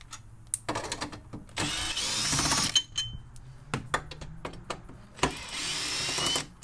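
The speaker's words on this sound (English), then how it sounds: "So we will We'll use our screwdriver to pull them out." Powered screwdriver whirring in several bursts as it backs Torx 40 bolts out of a swivel seat base in a RAM Promaster 2500 van, with clinks of metal between runs, close and fairly loud.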